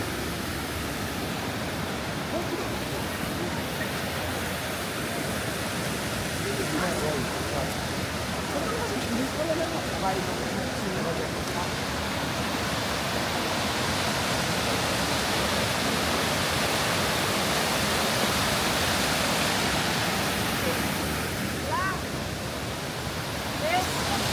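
Water pours steadily down a waterfall at Livadhja in a broad, unbroken hiss that holds close and even throughout, with a voice speaking over it.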